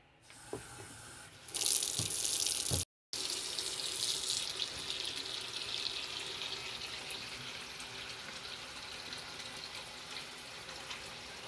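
Tilapia fish is washed in water with vinegar, a steady close rush of running tap water into a sink, with a brief break early on and continuous splashing flow after, no speech.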